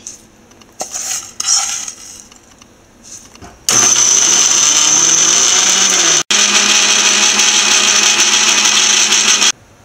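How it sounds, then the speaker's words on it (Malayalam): After a few soft kitchen clatters, a mixer grinder grinding roasted coconut roars loudly and steadily, stops for a split second, then keeps whirring before cutting off. "നമുക്ക് നല്ലപോലെ ഇനി മിക്സിയിൽ നല്ല മയത്തിൽ അരച്ചെടുക്കാം"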